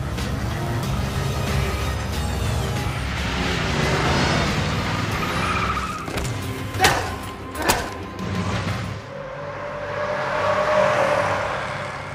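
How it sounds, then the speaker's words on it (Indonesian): A 1980 Chevrolet Corvette drives in a film scene, its engine a rumbling continuous drone with a couple of sharp thuds midway before the sound thins and a softer tone takes over. "lagi mengendarai mobil Chevy Corvette 1980"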